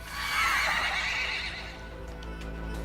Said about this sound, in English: There's that sound again, like a nightmare version of a hoarse neighing